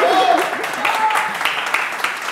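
An audience applauds at a morning talk, a short burst of clapping with a voice heard over it near the start.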